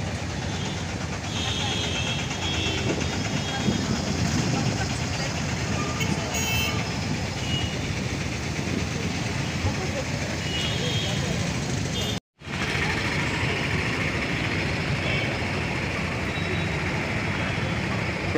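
Busy railway station ambience at Trivandrum station with a steady mechanical rumble and a brief high train horn toot, then a sudden short dropout before the noise resumes.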